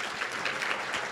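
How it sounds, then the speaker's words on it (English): Applause from a conference audience, a steady wash of many hands clapping at moderate level, brief and without talk. "This round of applause is for you."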